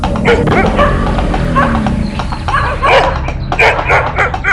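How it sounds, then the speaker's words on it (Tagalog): Repeated loud dog barks and yips from a dog in a video game, over a busy background, close and energetic throughout. "Dapat bilisan ko pa para hindi ako mahabol ng isang aso sa likuran ko banda."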